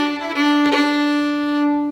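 A fiddle sounds a single bowed note with a roll, a quick cluster of ornamental notes flicked in near the start, from the Irish jig Humors of Trim, then holds steady before stopping.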